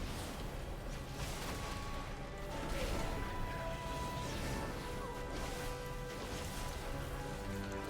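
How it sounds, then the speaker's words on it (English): Rain falls in a dense, steady patter during an online game session, with continuous hiss and scattered drops across the whole span and no voices. "Yeah, it's been raining since yesterday."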